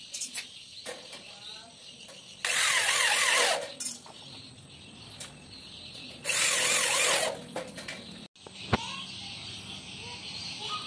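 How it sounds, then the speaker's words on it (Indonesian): A power drill bores into a light steel frame for a hanging shelf, with two loud, sustained whining bursts separated by quieter workshop noise, small clicks and handling knocks, close by and without talk. "Jadi ini dibor satu dulu ya."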